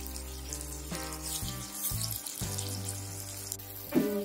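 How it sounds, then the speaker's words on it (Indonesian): Water is poured into a pan of sweet and sour salted snakehead fish, a steady close trickle with soft sizzling and clinking beneath, running for several seconds without speech. "Dan kita bisa tambahkan sedikit air."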